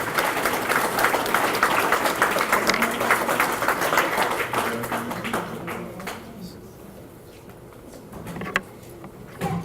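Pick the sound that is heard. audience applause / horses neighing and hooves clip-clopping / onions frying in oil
audience applause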